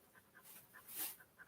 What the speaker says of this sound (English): so now she's under the desk panting like a crazy dog